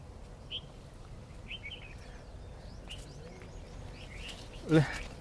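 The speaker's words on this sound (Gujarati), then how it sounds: "પક્ષીઓ બધી બાજુ બોલે ને મસ્ત અવાજ આવે છે" Scattered faint bird chirps come from several directions over a low outdoor hum in village farmland near Botad, Gujarat, with one louder, closer call near the end.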